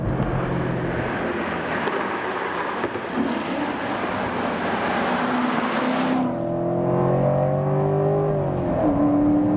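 A Corvette C7 Stingray engine drones and then climbs in pitch as it revs up, loud and close, with a rushing roar of speed underneath.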